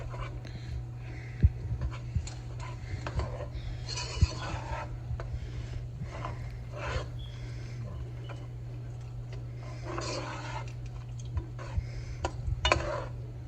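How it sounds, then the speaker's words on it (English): Spinach stirred into pasta in a pan for chicken alfredo, with soft irregular scraping and rubbing strokes of a utensil and occasional light taps over a constant low hum. "let's stir the spinach up in there"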